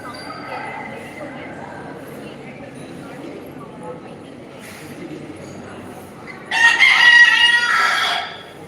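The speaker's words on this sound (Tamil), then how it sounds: "கோவிலுக்காக விட்ட கோழி கூவிட்டுருக்கு" A rooster crows at the Kundrathur Murugan temple, one loud, drawn-out cock-a-doodle-doo near the end that stands out over low background murmur and people talking.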